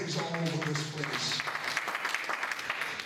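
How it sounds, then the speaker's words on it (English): A church congregation claps hands during a worship service, a dense continuous patter of applause mixed with voices calling out in praise. "Give the Lord a hand clap and a praise all over this place."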